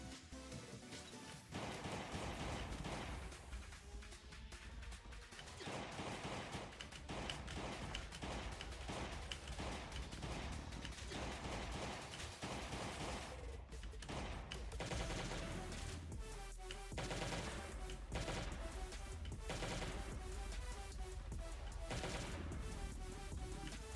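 Rapid bursts of gunfire from the mobile survival game Last Day on Earth: Survival fill the scene, loud and nearly continuous with repeated shots layered over game music and effects.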